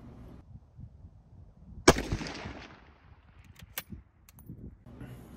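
A single sharp rifle shot cracks out loud at a 100-yard target, followed by a decaying rumble and a couple of fainter later clicks amid outdoor background noise.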